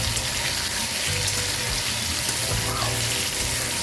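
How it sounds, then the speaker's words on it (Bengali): Ridge gourd pieces fry in oil in a home kitchen, the same oil already used for katla fish and potatoes, making a steady, hissing sizzle up close with no speech. "এবার আলুগুলো উঠায় নিয়ে আমি ঝিঙেগুলো ভেজে নেব একই তেলে।"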